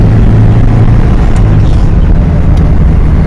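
A Toyota RV with a manual gearbox drives along in second gear, its engine a loud, steady, low rumble with constant road and wind noise and no letup.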